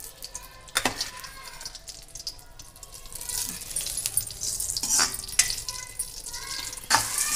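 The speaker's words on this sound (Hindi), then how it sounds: "गोंद और कनी फ्राई करेंगे 2 से 3 मिनट तक" Edible gum fries in hot ghee in a pan, making a soft, steady sizzle and crackle. Scattered clinks and scrapes of a utensil against metal sound close by, and the frying noise grows gradually louder.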